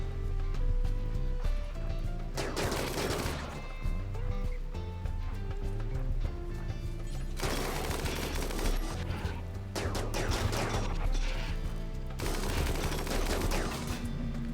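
Sniper gunfire in the video game RimWorld, several loud sharp bursts of shots spaced a few seconds apart over a low humming game background, with no talking.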